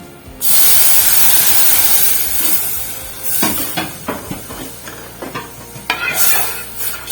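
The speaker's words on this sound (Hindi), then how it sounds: "और चम्मच को बराबर हिलाते रहना है ताकि ये नीचे ना लगे।" Loud, close hissing and sizzling as a milk mixture hits a hot pot, followed by a spoon stirring with repeated clinks and scrapes against the pot over a fading bubbling hiss.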